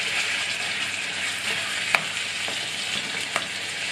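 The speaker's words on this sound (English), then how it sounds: "Just give it a stir." Ground meat for chilli con carne sizzling in a hot pan while being stirred, a constant bright crackle with a few sharp scrapes of the utensil, no voices.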